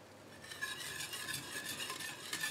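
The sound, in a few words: stirring melted chocolate and curd mixture in a pot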